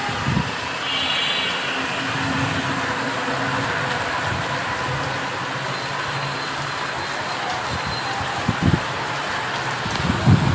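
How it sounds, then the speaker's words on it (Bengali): Steady rain falls outdoors in a dense, even hiss that runs through the whole stretch, with a few low thumps near the end. "কতদিন পর যে বৃষ্টি আসলো এখানে"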